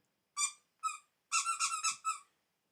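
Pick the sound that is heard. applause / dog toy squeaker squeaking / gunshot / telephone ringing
dog toy squeaker squeaking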